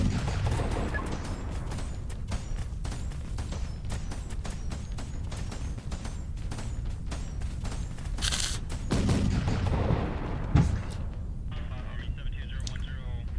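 Cannon fire from a ship's turrets in the video game Pirate Patrol, with rapid repeated booming shots and bursts running throughout over a steady rumble, one louder blast near the end.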